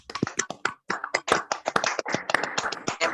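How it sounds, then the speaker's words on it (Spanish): Audience applause for Dr. Santiago Caballero after his lecture on analog quantum simulation in optical lattices: a short run of scattered, fairly close hand claps with brief gaps, no voices over it. "démosle un aplauso a nuestro expositor de hoy, Santiago."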